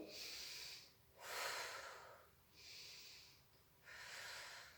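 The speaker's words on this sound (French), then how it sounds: "je n'oublie pas ma respiration" Heavy, quiet breaths in and out during a chair-based fitness workout, four long airy exhales and inhales in slow succession, close to the microphone and alone.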